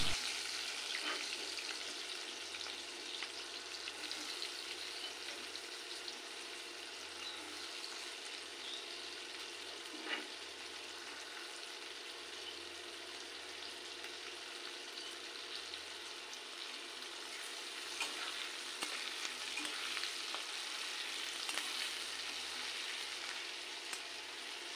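Chopped onion sizzles steadily in hot oil with whole spices and a dried chilli, a continuous soft crackle with occasional faint stirring taps and no voices.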